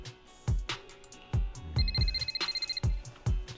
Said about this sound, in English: Just as she finishes her sentence, the phone rings again.